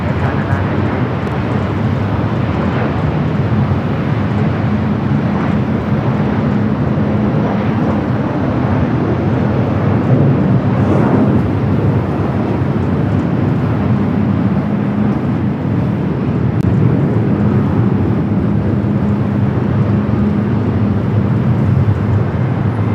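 Airliner taking off from runway 24 at LAX, a steady loud broadband jet roar with a low rumble that holds throughout, heard from a nearby spotting position with no talk.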